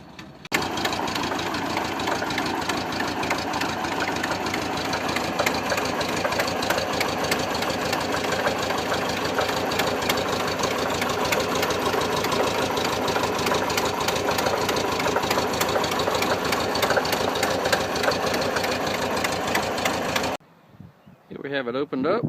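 A 1973 VW Microbus Westfalia camper with a 1600cc engine runs at a steady idle. Its even, rattling clatter is close and constant for about twenty seconds, then cuts off abruptly.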